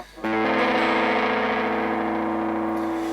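A single electric guitar chord strummed once and left to ring, thick and effect-laden with a washy delay sustain that slowly fades.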